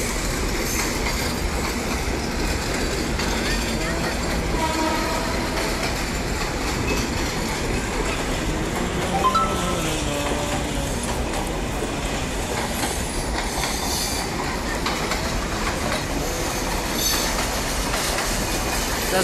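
Steady loud rumble and rattle of a moving passenger train heard from its roof near Tejgaon station, Dhaka, with wheel squeal and faint clickety-clack running throughout, no voices.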